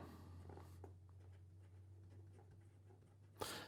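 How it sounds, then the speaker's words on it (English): A Venvstas Magna fountain pen with a medium titanium nib writes on paper, producing soft, close scratchy strokes in short bursts over a steady low hum, ending with a louder tap. "So here we go with the writing sample for the Venvstas."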